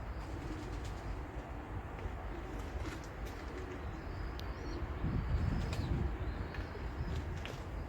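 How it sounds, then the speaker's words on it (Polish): Pigeons coo softly amid a dense, rumbling background, with low murmuring calls blending into steady noise throughout. "Super lezą w ręce te moje gołębie."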